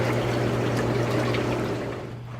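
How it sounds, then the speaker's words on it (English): Spa jets running after a bottle of System Flush is poured into the hot tub, a steady rushing, bubbling water flow with a low pump hum that fades slightly at the end. "Now we're going to turn the jets on."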